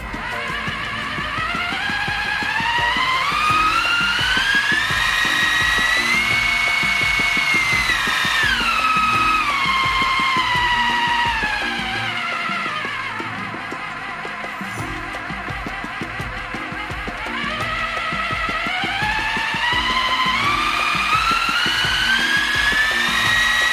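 The small electric motor of an $11 RC drift car whines at varying speed as its remote throttle is worked, pitch climbing and falling in two long sweeps with a dip to near idle between them; no one talks.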